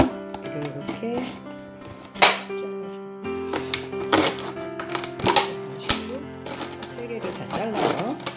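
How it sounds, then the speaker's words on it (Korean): Scissors snipping through a plastic container being cut into planters for a balcony lettuce garden, a series of sharp clicks and crunches at close range under a talking voice. "가위로 쫙 잘라주면 돼요."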